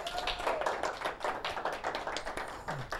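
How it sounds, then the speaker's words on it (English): A live audience claps for a guest, a dense burst of applause with fast irregular hand claps, moderately loud and close, without talk. "Let's get a round of applause for Rob."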